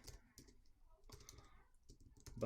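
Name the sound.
typing a headline on a computer keyboard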